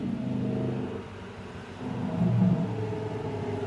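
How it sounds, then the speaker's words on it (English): Lamborghini Huracan Technica engine heard from a distance as a low, rumbling drone that swells into a brief rev midway before easing back, moderately faint with no talking. "if you can hear the sound, that's actually the Huracan Technica"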